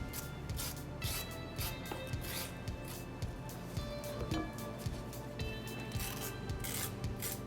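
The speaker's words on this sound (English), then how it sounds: "Over a bowl, just take a rag and just coarsely grate cucumber." Cucumber is coarsely grated over a bowl. A close, rhythmic rasping repeats in quick strokes, with a soft scratchy texture throughout and no voices.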